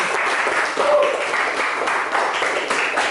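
Classroom applause from students in an Indonesian school lesson, a steady moderate patter of many hands lasting a few seconds, with a faint voice briefly audible.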